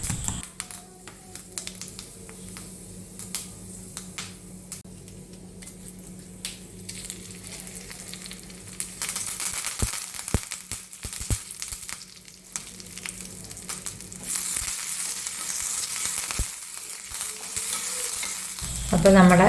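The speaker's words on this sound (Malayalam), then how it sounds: "ഇനി ഇതിലേക്ക് നമുക്കൊന്ന് കടുക് വറുത്തിടണം" Mustard seeds, fenugreek, curry leaves and a dried chilli fry in hot oil for a Kerala pumpkin curry, a continuous close sizzle dotted with sharp crackles and pops that grows louder and busier partway through.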